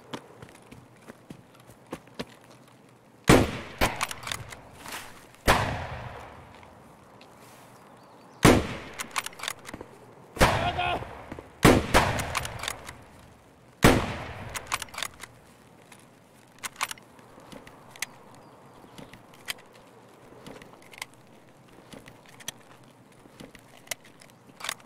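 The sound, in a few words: gunshots in video game Escape From Tarkov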